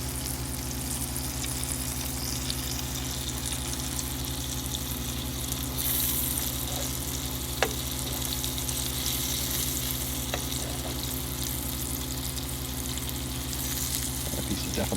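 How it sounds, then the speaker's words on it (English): Breaded rehydrated freeze-dried pork loin frying in hot oil, a loud, close, continuous crackling sizzle with occasional sharper pops, steady throughout. "I like watching food sizzle."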